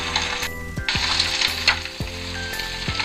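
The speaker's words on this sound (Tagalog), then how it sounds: "iprito na natin ang ating tokwa" Tofu fries in a pan with a bright, steady sizzle and occasional stirring clatter, a few sharp knocks and low thuds from the pan, close and continuous, no talking.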